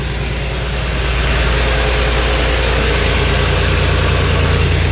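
An old engine with a decompression lever runs at idle on the New Zealand seaside, loud and close with a dense, steady low drone and a faint rise in level early on, no voices over it.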